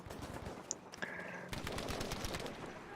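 Automatic weapon fire in the Battlefield 5 video game rattles in quick bursts, with sharp cracks and a brief pause mid-way before a denser volley resumes, fairly loud and with no voices.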